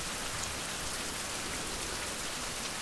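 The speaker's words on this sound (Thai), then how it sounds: "ฝนตกเฉยๆ" Steady rain falls outdoors in a survival game setting, a dense, even hiss of drops on surfaces that holds at the same loudness throughout with no voices.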